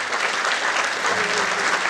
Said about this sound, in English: How about a nice round of applause for a beautiful prayer.